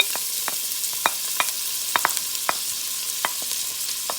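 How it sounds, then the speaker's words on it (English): Chopped red onion sautéing in about a tablespoon of coconut oil in a pan: a steady low sizzle with scattered clicks and taps of a utensil against the pan, fairly close and with no voices. "We're gonna start saute the onion."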